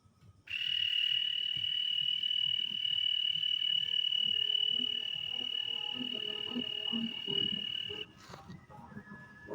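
A person imitates a cricket, holding a sustained shrill, steady chirping trill for about eight seconds, loud and close, before it stops abruptly and faint background sounds remain.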